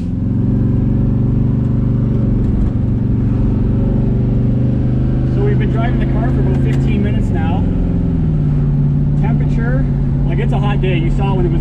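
Twin-turbo LS-engined Le Mans car driving after a radiator and transmission cooler upgrade, its steady loud engine drone shifting pitch as it accelerates, with speech-like sounds over it.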